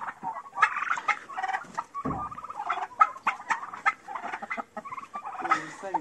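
A flock of turkey chicks calling close by outdoors, busy overlapping cheeps and chirps, continuous and chattering with a few louder calls.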